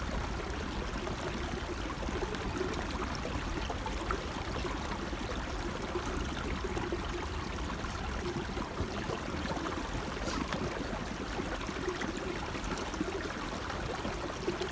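A water bag being filled from a mountain stream: a steady, faint gurgling trickle of flowing water, continuous and even throughout with no talk.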